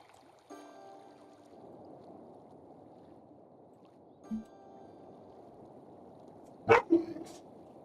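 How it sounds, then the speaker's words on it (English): A pet dog barks a couple of times nearby at about the midpoint and again with two sharper, louder barks near the end, with a low steady background hum throughout. "my dog's barking"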